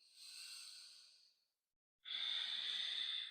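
Two slow, deep breaths taken during a yoga downward dog pose in a morning vinyasa session, a long airy exhale, a brief pause, then a strong steady breath, close and alone.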